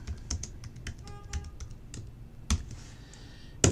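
Keystrokes on a computer keyboard while drafting in CAD software, a quick uneven run of clicks with a couple of sharper, louder presses near the end, close and alone with no talk.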